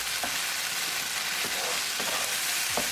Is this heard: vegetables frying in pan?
yes